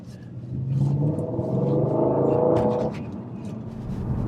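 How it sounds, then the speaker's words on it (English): An Audi RS4 Avant 4.2 V8 engine revs up loudly and close, holding a throaty rising roar for a couple of seconds before dropping back to a lower rumble. "What an engine in these cars."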